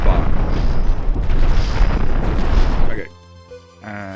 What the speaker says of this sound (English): cannon shells are in the air, lasers are in the air